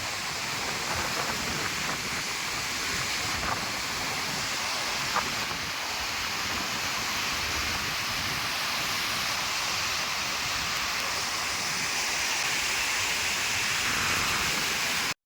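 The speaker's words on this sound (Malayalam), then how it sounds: "നല്ല തിരമാല അടിക്കുകയാണ്." Ocean surf at Kappil beach, a steady, broad, close roar of breaking waves that stays almost unchanged throughout, with no voices heard.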